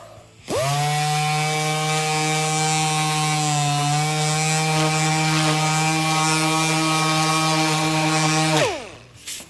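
A power sander works over a fiberglass repair, spinning up abruptly and holding a steady, loud motor whine for about eight seconds before winding down, close up with no voices.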